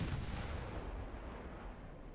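Naval gun turrets boom in the video game Ultimate Admiral Dreadnoughts, a heavy low rumbling blast that rolls out and slowly decays over a couple of seconds, with no voices.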